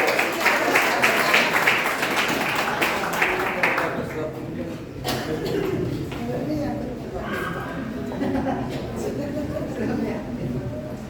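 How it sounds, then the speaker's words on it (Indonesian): A church congregation applauding during a sermon, a burst of clapping that fades after a few seconds, followed by scattered taps and murmuring voices under an ongoing speaking voice. "Beri tepuk tangan bagi Tuhan Yesus."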